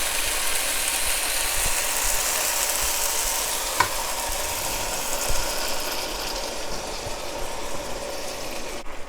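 Fish fragrant eggplant with pork being stirred in a saucy pan, a continuous close sizzle with scraping and clicking spatula strokes, no voices.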